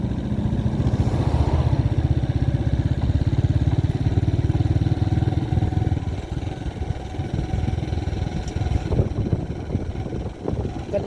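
A motorcycle engine runs steadily and loud up a winding uphill road, its rough drone filling most of the clip before easing and changing pitch near the end.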